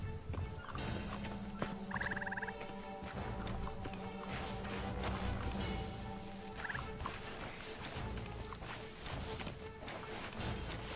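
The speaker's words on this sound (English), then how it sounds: "Hearing birds, but I don't know if it's like ambient sound on the island." Ambient island bird calls in the video game Sea of Thieves, short chirping and gobbling calls at moderate distance over a busy bed of footsteps and game noise.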